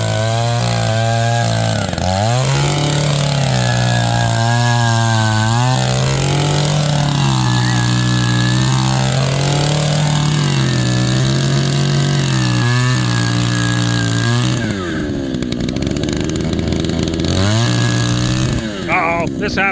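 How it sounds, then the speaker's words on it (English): A loud, continuous powered tool drills holes, its engine droning with pitch dips where the bit bogs under load, then cutting out briefly near the end, while people talk over it. "Alright, we've got him drilling holes now."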